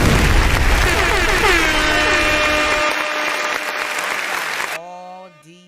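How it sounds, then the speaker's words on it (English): A canned applause effect played on a radio show, a dense wash of clapping and cheering that runs loud for nearly five seconds and then cuts out abruptly, leaving a faint tonal tail. "Let me hit some applause."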